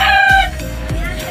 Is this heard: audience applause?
no